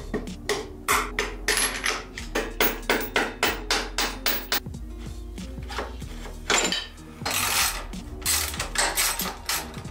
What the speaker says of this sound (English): Pop out this upper shock bolt.